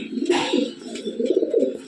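Teddy pigeon cooing in a steady run of soft, throaty coos, close and fairly loud, with a brief brighter rustle near the start and no talk.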